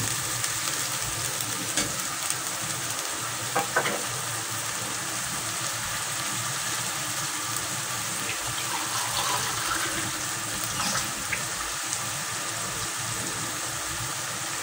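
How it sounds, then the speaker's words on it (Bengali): Ginger garlic paste frying with onions in a pan for a bitter gourd and rui fish roe stir-fry, a continuous broadband sizzle with occasional stirring scrapes, close and steady throughout. "আদা রসুনের পেস্টটাকে আমি পেঁয়াজের সাথে কিছুক্ষণ ভেজে নেব।"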